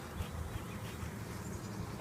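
Agitated honey bees buzz around an open hive during an inspection, a faint, steady low hum with no voices, ending in a brief louder bump.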